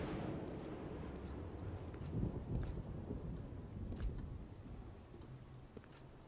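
Steady rain hisses through a game world in Oblivion with a modded setup, broad and continuous, with a few low rumbling swells of thunder around the middle and no voices.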